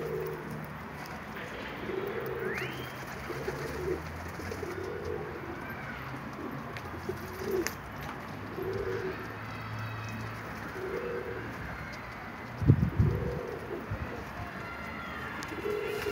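Pigeons at a coop give soft, repeated cooing calls in a steady low rhythm, with one louder close burst of cooing near the end against constant outdoor background noise.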